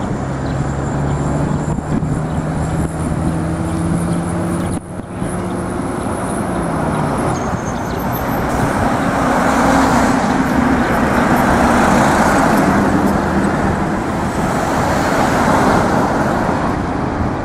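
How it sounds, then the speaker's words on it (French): Road traffic passing near a bend, a steady loud roar of cars and heavier vehicles with engine tones rising and falling as they go by close, continuous through the whole stretch. "les véhicules dans l'ensemble sont surpris et ils se débattent pour se rabattre sur la droite"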